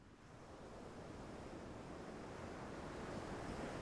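Sea waves wash continuously in a broad, steady roar of surf that swells slightly louder toward the end, with no voices.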